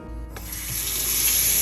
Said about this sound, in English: with some warm water, we're just gonna clean those debris and just wash those off first